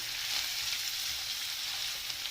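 Peppers sautéing in a pan for saç kavurma, meat and peppers searing together in a steady, dense sizzle and crackle that holds evenly throughout at close range.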